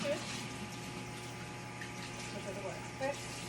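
Tap water runs steadily into a sink while dishes are being washed, a constant close hiss and splash with faint clinks and a low hum, and someone talks over it.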